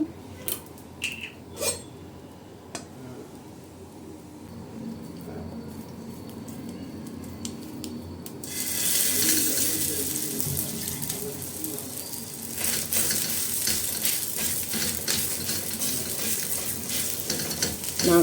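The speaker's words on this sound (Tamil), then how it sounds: "இப்போ தோசைக்கல்லாம் நல்லா காஞ்சிடுச்சு எண்ணெய் விட்டுக்கலாம்" Oil poured onto a hot dosa griddle while making Thanjavur-style oorappadai, a traditional village snack. A few light clinks come first, then a broad, steady sizzle rises and carries on close by.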